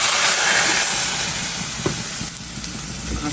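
Lentils (dal) dropped into a hot pan burst into a loud, close sizzle that hisses steadily and slowly fades, with no talk over it.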